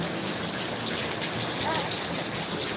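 Heavy rain pours down in a steady, dense hiss with no breaks, fairly loud and continuous throughout.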